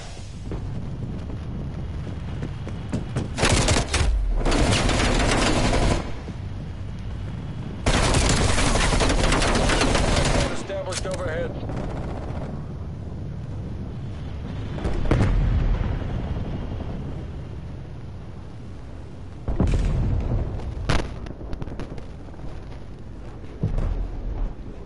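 Sustained automatic gunfire from a sentry turret in the shooter Call of Duty: Black Ops Cold War, loud dense bursts of rattling shots repeating over a constant battle din, with heavy blasts mixed in.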